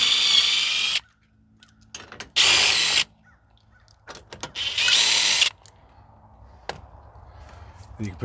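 Ten-millimetre grille bolts come out of a Chevy 3500HD truck as a power tool whirs in three short, loud bursts, separated by quieter clicks and handling noises.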